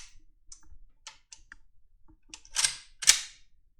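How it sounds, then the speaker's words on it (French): The bolt of a Zastava M05 AK-47 in 7.62x39 locks back after the last round, a series of light metallic clicks building to two sharper, louder clacks close by. "la culasse elle reste en arrière."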